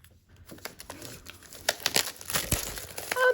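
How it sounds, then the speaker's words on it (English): Scissors slice through the plastic packaging of a 192-page journal from a seasonal surprise box, a string of close crinkling cuts and tearing plastic that grows louder toward the end. "it looks like I need a pair of scissors to open this up. So let's go ahead, slice this open."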